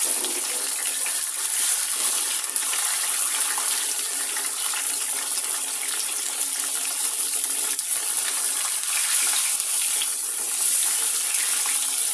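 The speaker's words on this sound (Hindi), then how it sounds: "चिकन को भी लहसुन के साथ ही फ्राई कर लूँगी 5 से 10 मिनट के लिए।" Chicken and garlic sizzle and hiss steadily in a hot pan, a constant close-up crackle with no pauses and no talking.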